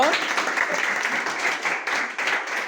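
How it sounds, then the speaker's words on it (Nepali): A class of students in a school applauding together, dense continuous clapping close by that holds steady for the whole stretch, with some voices mixed in. "एकचोटि साइन्स सरको लागि तिमीहरूले ताली बजाइदेऊ त।"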